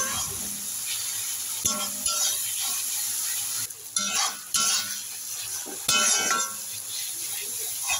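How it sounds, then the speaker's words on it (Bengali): A spice masala with tomato, cumin, coriander and chilli powders plus a little water is stir-fried in a pan for egg curry, giving a soft sizzle under repeated spatula scrapes and clinks against the metal. "সামান্য পরিমাণ জল দিয়ে সব মশলা আমি ভালো করে কষিয়ে নেব"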